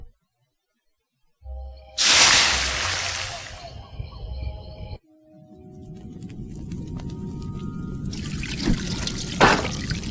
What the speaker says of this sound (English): The hot shovel melted the ice and formed a cool little puddle.